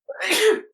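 A single sharp human sneeze, close and loud, a quick intake followed by a forceful burst lasting well under a second, with silence around it.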